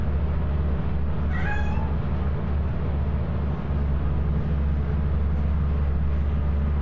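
A cat in Lethal Company gives one short rising meow, faint and slightly distant, over a steady low engine-like hum that runs through the whole stretch.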